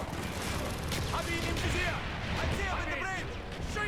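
Mortar fire in a Soviet Arctic mission of the Call of Duty: Black Ops shooter comes as sharp bursts and clanking weapon mechanics over a busy battle din, with speech and radio chatter layered on top.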